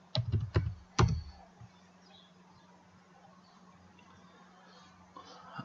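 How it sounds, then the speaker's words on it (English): A few sharp, close keystrokes on a computer keyboard in two quick clusters, followed by a long quiet stretch with a steady low hum and one more faint tap near the end. "I'll type password."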